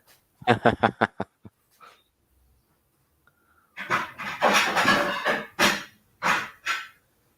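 Dog panting outdoors, a quick burst of rhythmic breathy pants, then a pause and a longer run of louder, rougher panting and huffs close by.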